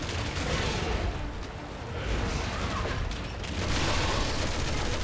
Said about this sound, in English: I'm gonna do a remote bomb and do something very stupid right now.